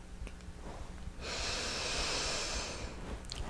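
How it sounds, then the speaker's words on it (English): A long, steady nasal inhalation of essential oil, drawn in close to the microphone for about two seconds amid near silence, with faint small breaths before and after. "taking a few refreshing sniffs of the oil periodically throughout the day."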